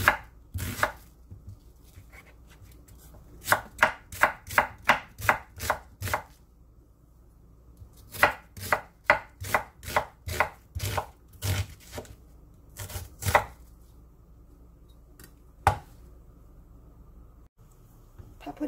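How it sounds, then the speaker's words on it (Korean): An onion being sliced into thin strips with a knife on a cutting board, with crisp rapid chopping taps in quick bursts separated by pauses, close and clear, with no talk. "양파 채 썰어줍니다."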